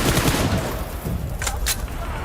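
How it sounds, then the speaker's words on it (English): A quick burst of rapid gunfire rings out in a PUBG Mobile World Cup esports match, loud and dense at first, followed by a couple of sharper shots over a busy game background. "Headshot there onto Darkin to finally finish him off"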